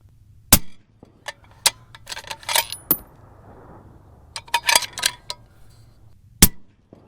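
A 7mm-08 rifle fires Barnes 171 handloads outdoors. Two sharp, loud shots ring out about six seconds apart, with lighter clinks and handling clatter in between.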